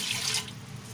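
Two cups of water are poured into a cooking pot for ginataang bilo-bilo, a short splashing rush of water that is loudest at the start and then settles.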